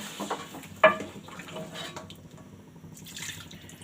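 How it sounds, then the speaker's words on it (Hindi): One litre of water splashes and trickles steadily into a pot of mutton, with a brief sharper clink near the start, fairly close and continuous. "अब हम इसमें डालेंगे 1 लीटर पानी।"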